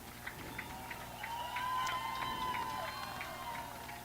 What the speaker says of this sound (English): And the cheering.